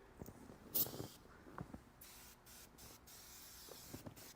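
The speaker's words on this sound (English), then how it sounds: "I'd rather just spray into the tool and use that." A short hissing spray burst of all-purpose foam cleaner from a trigger bottle, close by inside a Corvette, followed by faint handling noises in a quiet space.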